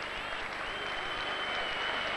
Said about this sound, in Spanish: E o público que aplaude